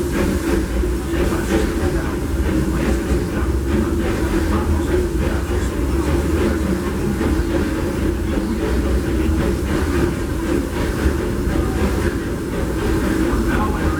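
A Disneyland Railroad excursion train, led by the Fred Gurley locomotive number 3, rolls along steadily, with a continuous close rumble and rattle of the carriages throughout.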